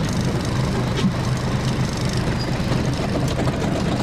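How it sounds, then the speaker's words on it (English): A bus engine idling near Bethlehem's Church of the Nativity, a steady low rumble that holds at an even level without pauses. "we're getting on the bus."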